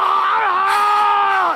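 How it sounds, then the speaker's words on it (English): A blood-curdling scream rings out, a loud, sustained high-pitched shriek with a wavering pitch, lasting over a second and heard close and alone. "blood-curdling screams coming from downstairs"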